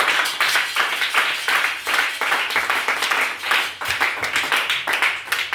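A church congregation claps and acclaims the Lord during a special revival meeting, dense rhythmic applause with bursts of hand claps sustained loudly throughout, close and energetic, with no speech over it.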